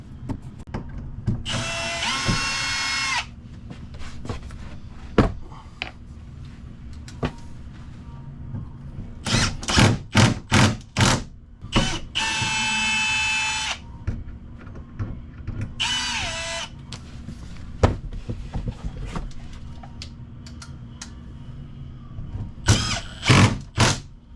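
A power drill backs Phillips screws out of TV mounting brackets during an extra TV install in a Class C. There are about six close, loud whirring bursts of varying length, separated by short pauses filled with clicks and handling noise.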